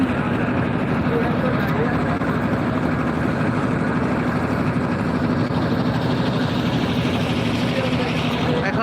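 A trawler boat's engine drones on a river at Mehendiganj, Barisal, a continuous low rumbling chug that stays steady and fairly loud throughout.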